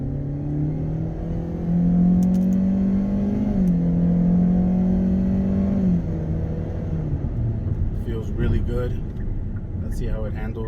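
A 2021 Hyundai Elantra Limited accelerating from 0 to 60 on a street, engine drone rising steadily in pitch through the gears with a brief shift dip, heard from inside the cabin as a smooth, moderately loud hum.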